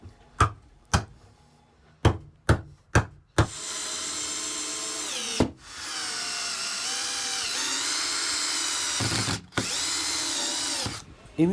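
Several short bursts of a power drill, then long sustained whirring runs as wood screws are driven into wooden beams, with brief pauses between; loud and close.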